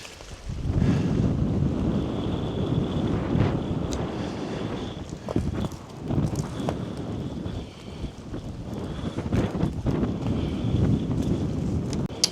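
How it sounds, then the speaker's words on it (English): Strong wind gusts buffet the microphone on a frozen lake in Michigan, a loud, steady roar that rises and falls with broad rumbling surges and no voices. "Oof, breezy out here."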